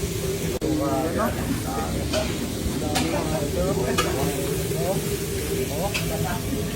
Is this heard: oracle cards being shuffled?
no